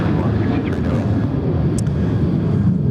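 Jet aircraft on the runway at Sydney Airport, a loud, steady roar of engines with heavy wind rumble, continuous throughout.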